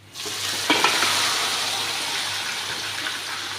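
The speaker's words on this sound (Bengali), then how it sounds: "এই পেঁয়াজটা দিয়ে দিলাম ছ্যাঁক করানোর আগেই।" Onions hit hot oil for a duck meat curry, setting off a sudden loud sizzle that holds as a steady, close crackling fry with a few sharp pops early on.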